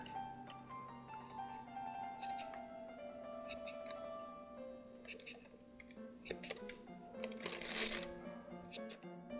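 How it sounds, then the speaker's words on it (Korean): Scissors trim the roots of a Euphorbia obesa Prolifera succulent during repotting, a steady run of small close snips and rustles over a faint background hum, with no talk. "이렇게 뿌리 정리를 마쳤습니다."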